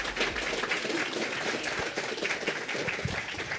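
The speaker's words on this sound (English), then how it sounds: "Applause for David Craddock" Applause from a conference audience after a talk introduction, a continuous wash of many hands clapping at moderate distance, steady throughout with no voices on top.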